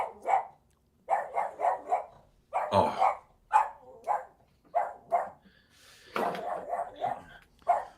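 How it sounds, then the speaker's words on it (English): A pet dog barks excitedly at someone at the door indoors, loud repeated bursts of barking in irregular clusters, with a brief voice heard once amid the barking. "my dog is flipping the heck out"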